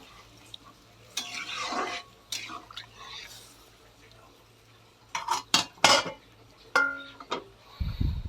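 Utensils clink and scrape against a pot as mushroom curry is stirred after water is added, a few bright metallic knocks in bursts between quieter stretches, with a brief low thump at the end.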